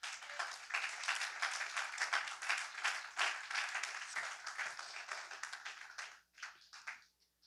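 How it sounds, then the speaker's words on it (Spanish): Church congregation clapping in praise during a Spanish-language service, a dense sustained round of hand claps that stays loud for about six seconds and then thins into a few scattered final claps. "Dale palmas al Señor."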